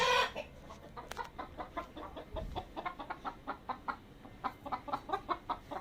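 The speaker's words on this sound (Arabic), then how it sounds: "دي الفراخ البلدي بتاعتنا اهي" Local free-range chickens cluck close by on a farm, a busy series of short rhythmic clucks and calls repeating throughout at moderate volume, with no talking over them.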